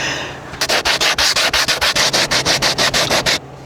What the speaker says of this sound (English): I think we're gonna do some sanding on this thing and see how it goes